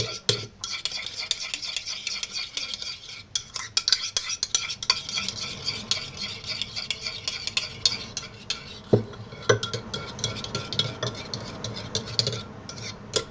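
A homemade hair conditioner mixture, white like plain yogurt, being stirred steadily in a bowl, giving continuous soft scraping and clinking of a utensil at close range, with no talking.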